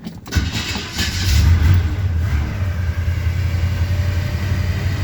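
A 1978 Chevy C10 truck fitted with an Edelbrock carburetor cold starts: a brief crank catches into a loud, rough rumble that settles into a steady, close idle.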